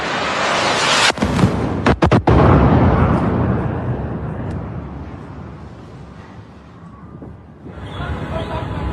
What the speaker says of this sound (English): A luxury hotel on fire after being hit by missiles.